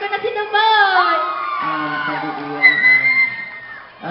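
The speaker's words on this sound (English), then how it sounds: "Thank you for your applause" An audience cheers and whoops in a lively burst, with shouts and whistle-like cries rising and falling over a few seconds, fairly close.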